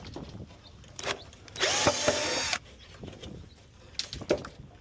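A power drill whirs in a short close burst for about a second while backing screws out of a tankless water heater being stripped for scrap copper, with lighter knocks and clatter around it.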